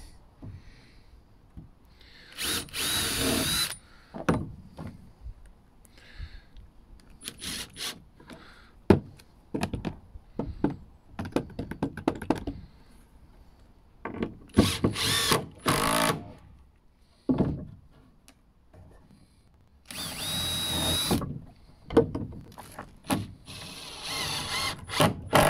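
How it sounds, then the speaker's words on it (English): Power drill driving screws into dry tanalised timber, heard as several short loud whirring bursts separated by quiet gaps and small handling knocks, close by. "I could nail it, but I'd want to screw this end anyway"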